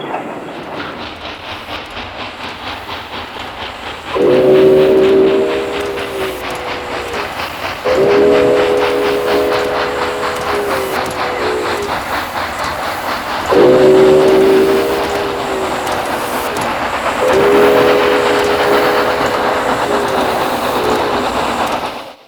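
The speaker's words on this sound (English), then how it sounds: "The climb continues as the 4274 whistles through Emigrant Gap." Southern Pacific 4274 steam locomotive climbing through Emigrant Gap on Donner Pass, sounding four long chime whistle blasts over a steady rhythmic chuffing and rolling train noise.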